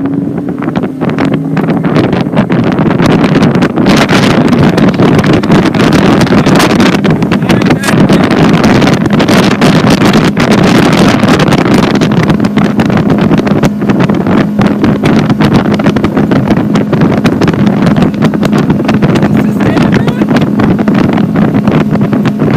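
A boat motor starts and then roars at full throttle for a long stretch, a loud continuous drone mixed with heavy wind buffeting on the microphone.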